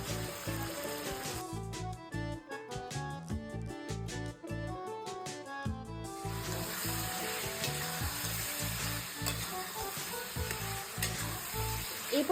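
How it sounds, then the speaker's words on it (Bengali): Desi chicken cooked village-style with ground spices sizzles loudly in a kadai, with a fast run of regular scraping stirring strokes over a constant frying hiss. "মাংসটা কড়াইয়ের মধ্যে দেওয়ার পর আমরা ভালো মতন মশলার সাথে মাংসটাকে মিশিয়ে নিলাম"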